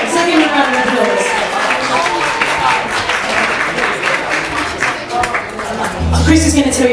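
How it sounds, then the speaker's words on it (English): A pizza restaurant audience in London gives a sustained round of applause to pianist Chris Manning at a live show. Dense, loud clapping runs throughout, with crowd chatter and voices mixed in. "Have you a round of applause?"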